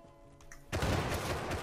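A sudden broadband burst of gunfire in the survival game Rust, near and loud, breaking in after a quiet stretch and holding as a dense, sustained crackle of shots for about a second.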